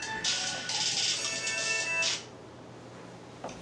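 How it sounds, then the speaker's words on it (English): A mobile phone ringtone plays loudly for about two seconds as a bright repeating tone, then cuts off and leaves quiet room tone. "I apologize for my phone ringing."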